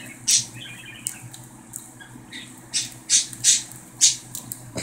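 A pet cockatiel or budgie chirps and squawks in short bright bursts, several calls in quick succession, close by with a quiet room behind.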